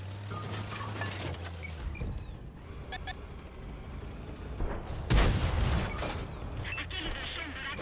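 Gunfire in a Counter-Strike style shooter video game, bursts of shots and mechanical clatter amid game ambience, with a louder burst midway, under a player's talk.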